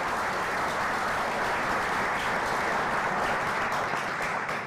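An audience at a Black male development symposium panel breaks into steady, dense clapping that stays loud and even for nearly five seconds, with no one speaking over it.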